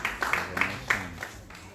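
A small audience claps in scattered bursts for a singer, the applause sparse and fairly close, fading within a couple of seconds.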